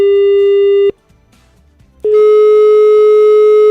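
Busy signal on a radio call-in phone line: a loud steady tone, cut off for about a second of near silence, then resuming with a brighter, buzzier edge. No one speaks.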